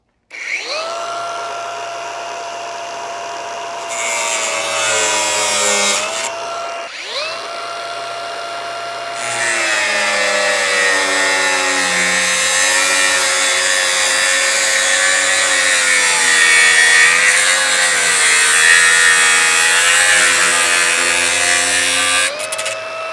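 Power tool cutting the bed flange off a Toyota Tacoma, a loud whining high-pitched grind that shifts pitch as it bites the metal, pausing briefly twice before running on steadily.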